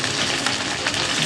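Chopped onion, capsicum and green chili sizzle in hot oil in a pan for a chili soybean dish, giving a steady close frying hiss with no talking.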